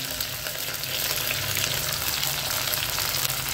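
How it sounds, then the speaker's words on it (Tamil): In a clay pot, green chillies, onion, garlic and curry leaves sauté in oil for an anchovy fish curry. The frying is a dense, loud, continuous sizzle heard up close with no talk. "இது நம்ம எண்ணெயில் வந்து நல்லா வதக்கி விட்டுடலாம்"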